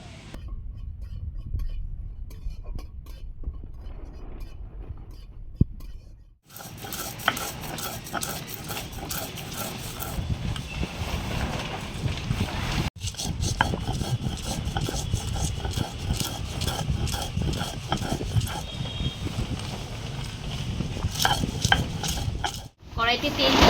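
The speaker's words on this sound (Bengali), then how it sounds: "কড়াইতে আগে মশলাগুলো দিয়ে ভেজে নেব" Dried red chillies, coriander seeds and whole cumin dry-roasted in a wok over a stove, a busy run of scraping, rattling stirs with short gaps, close and loud throughout.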